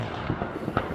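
Distant fireworks pop faintly on Bonfire Night, a few soft, quick bangs in a brief moment without talk.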